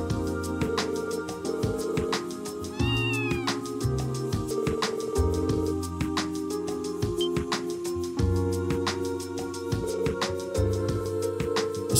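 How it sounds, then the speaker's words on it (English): A stray cat in a video game lets out a brief, clear meow, set against steady game music that carries on throughout. "A stray cat, alright."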